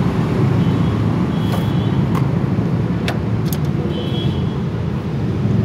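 A Suzuki GS 150 motorcycle engine runs in third gear with a loud, steady, close rumble that holds without a break throughout.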